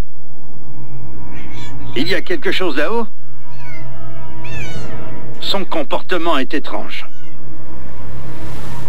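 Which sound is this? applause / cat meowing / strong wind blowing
cat meowing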